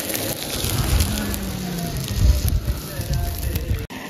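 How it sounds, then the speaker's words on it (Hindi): Onions sizzle and crackle steadily as they fry in a pan, close by, with a brief clatter near the end. "प्याज भून रहे हैं।"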